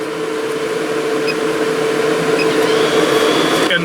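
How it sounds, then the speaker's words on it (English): A Scamp trailer's roof fan blowing air inside, a steady close whirring hum with constant airflow noise throughout and a slight shift near the end. "If I hit this button down here, the fan will change directions and blow air into the trailer."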